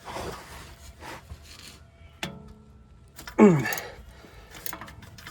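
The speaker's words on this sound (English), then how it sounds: "I'm using a small ratchet, so this is actually kind of a pain to break loose" A small ratchet works a stubborn starter bolt loose on a 2015 Ford F150, giving scraping, rasping metal sounds with a sharp click and a louder grinding burst partway through.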